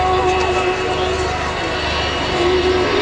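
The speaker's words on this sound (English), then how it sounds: "It's the sound of 4 Rolls-Royce Bristol Olympus 202 engines" An Avro Vulcan bomber with four Rolls-Royce Bristol Olympus 202 engines at an air show, a loud, steady jet roar with a sustained whine on top, continuous and close throughout.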